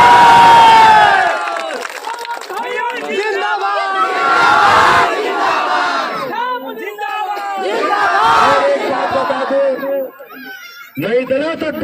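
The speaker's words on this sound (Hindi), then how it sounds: "हाथ उठा के ताली बजा के बता दें।" A village crowd at a political rally in Karakat, Gopalpur cheers and shouts loudly in waves, with children's voices among them. Clapping mingles in the roar.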